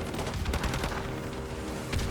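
Dense, continuous bursts of rapid gunfire rattle without pause in Call of Duty: Modern Warfare 2 Remastered, a heavy wall of shots filling the whole moment.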